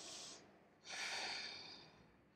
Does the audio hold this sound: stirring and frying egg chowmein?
no